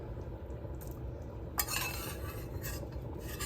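Soft boiled potatoes go into a pot of beef stew with quiet clinks and a light splash over a low simmering background, faint and brief.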